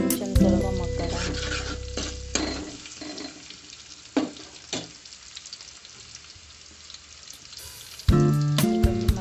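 Tomato rice mixture with salt cooking in a pan, a soft sizzle and stirring clatter up close, with louder scraping bursts at the start and end and quieter simmering between.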